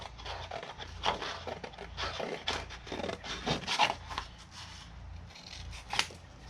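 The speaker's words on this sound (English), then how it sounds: "I'm going to just cut it out real quick with my scissors" Scissors snipping through paper in a series of short, uneven cuts, close by and fairly crisp, with light rustling between snips.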